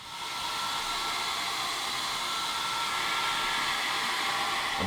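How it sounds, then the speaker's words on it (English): A hotel-room hair dryer on its highest setting blows onto a shirt, rising quickly to a steady, loud, close whooshing whine that holds level with no talking. "using the blow dryer in the room, putting it on its highest setting"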